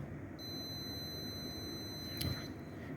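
An electric bell wired to a push-button circuit rings under test, a steady high-pitched electronic tone that starts a moment in and sustains at moderate volume over a low background hum, with a brief clatter near the end.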